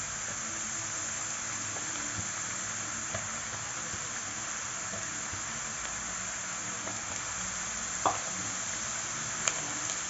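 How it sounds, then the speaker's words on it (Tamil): Potato slices for crispy homemade chips fry in oil over a medium flame while being stirred, giving a steady, soft sizzling hiss with a few faint clicks and taps. "நல்லா எல்லா பக்கமும் பொரிகிற மாதிரி கிளறி விடுங்க."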